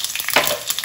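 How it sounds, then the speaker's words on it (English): Green chilies, chana dal and red chilies frying in hot oil for South Indian variety rice, a brief steady sizzle with a slight stir swell midway. "add the green chilies, the chana dal, red chilies"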